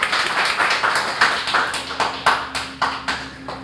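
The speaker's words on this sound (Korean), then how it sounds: "우리 한번 환영의 박수 한번 보내드리겠습니다." A congregation claps in welcome at a fifth-anniversary worship service of a church for North Korean defectors in Busan, with steady, moderately loud hand claps in an uneven rhythm that sharpens into distinct individual claps toward the end.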